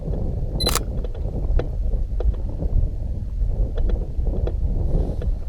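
Strong wind buffeting the microphone on a kayak during bass fishing at Cedar Lake, a constant low rumbling roar with a few faint clicks and knocks, no talking.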